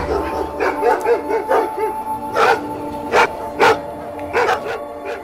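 Wild dogs bark repeatedly in a rapid, uneven series of loud, close barks and yips, with short pauses between bursts and faint background noise.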